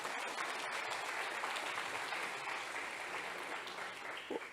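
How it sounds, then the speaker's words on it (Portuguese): A church congregation applauds together at a worship service, a dense, steady wash of many hands clapping at moderate distance that holds evenly throughout with no voices over it. "Aplaude o teu Deus, a igreja aplaude."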